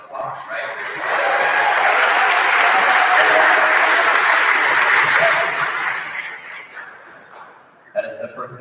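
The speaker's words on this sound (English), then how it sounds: "Yeah, that's applause, right?" Crowd applause at a middle school 8th grade awards ceremony, a loud, sustained clapping that swells for several seconds and then fades as a voice starts speaking near the end.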